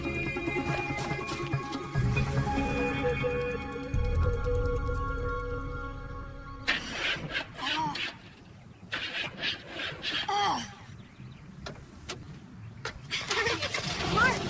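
A car engine cranks and struggles to start, grinding and sputtering in uneven bursts after a stretch of music, with voices nearby.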